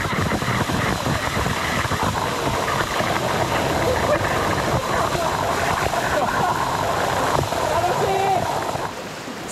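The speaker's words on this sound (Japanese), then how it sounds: "豪快に流れ落ちる水しぶきを全身で浴びる" Heavy rushing water from a waterfall on the Maze River in Gifu, Japan, crashes and splashes continuously, loud and close, with a person's voice briefly audible over the roar.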